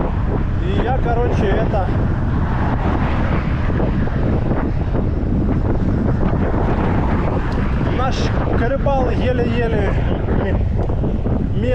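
Strong seaside wind buffets the microphone with a constant loud rumble while someone talks over it near the Crimean coast.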